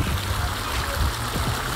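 Water spilling down a backyard pond waterfall built of brick and rock, fed by pumps, a close steady splashing rush with brief faint voice sounds underneath.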